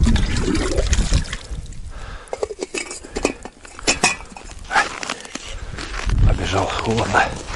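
Water scooped and poured with clinking of a metal pot or mug at a frozen winter camp in -20 frost, a series of close splashes, trickles and knocks.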